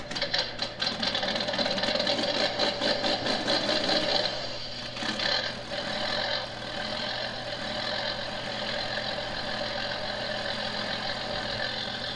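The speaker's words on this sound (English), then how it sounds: "listen to the tractor purr" A tractor engine idles steadily with a low, even rumble and a faint mechanical chatter, running alone without talk.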